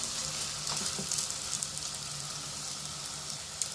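Semolina roasting in ghee in a pan for halwa or barfi gives a steady, close sizzling hiss with faint crackles, continuous and alone without talk.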